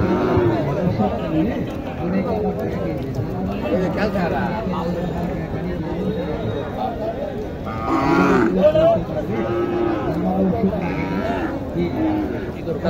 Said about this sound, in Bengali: এখানে একটি গরু দেখছি।